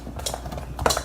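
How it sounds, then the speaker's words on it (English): Glitter glue being stirred into homemade slime in a bowl, giving soft scraping and clinking utensil sounds with a few sharper taps near the end, close and quiet, no talking. "I'm just gonna mix in some of my glitter glue."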